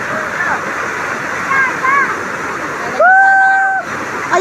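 A river flows and rushes steadily along a jungle trail on the way to Mother Falls near Mount Makiling. The water is loud and continuous, with brief chirping tones over it.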